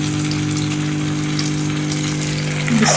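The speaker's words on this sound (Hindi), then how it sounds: "इन्हें हमने डीप फ्राई ही करना है।" Egg-dipped potato kebabs with spring onion deep fry in hot oil in a pan, giving a steady, loud, close sizzle throughout with a brief bubbling flare near the end.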